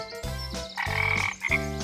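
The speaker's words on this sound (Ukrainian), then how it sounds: "Жаба." A frog croaks in a few loud, close, raspy bursts that run into one another, with no voices or other sounds around it.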